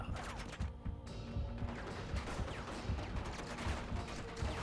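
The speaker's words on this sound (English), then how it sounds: "Who's shooting me?" Gunfire aimed at the player during Uncharted 2 gameplay: continuous rapid shots and crackling fusillades over steady game music and ambience, with a voice briefly heard underneath.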